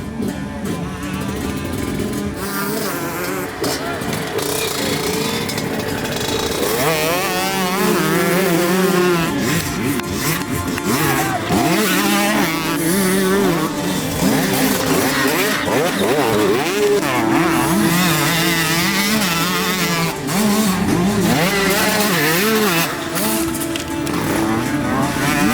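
An enduro motorcycle at an EnduroGP round in Valpaços, Portugal, revs hard as it climbs over logs. The engine pitch rises and falls repeatedly, loud and close, for the whole stretch.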